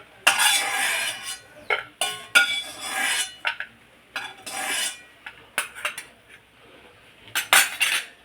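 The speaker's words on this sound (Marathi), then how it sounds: "हे शेंगदाणे आता भाजलेले आहेत ते आपण काढूया" A metal spoon scrapes and clatters against a pan while roasted peanuts are scooped out, with bursts of rattling strokes separated by short pauses, near and fairly loud.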